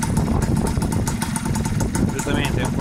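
A motor scooter fitted with a Malossi carburettor idles up close in a garage, a steady, loud, even putter with a rattly, buzzy edge that holds throughout.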